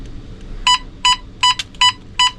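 A propane gas detector alarm, set off with a torch lighter in a converted school bus, gives five sharp electronic beeps at an even, rapid pace, loud and close, with no talking.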